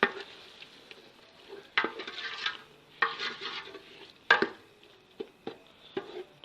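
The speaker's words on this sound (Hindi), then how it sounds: "और अच्छी तरह मिक्स कर लेंगे।" Mutton pulao with tomatoes is mixed in a cooking pot, with several distinct scraping strokes and clanks of a spoon against the metal, spaced irregularly over a faint sizzle and no talk.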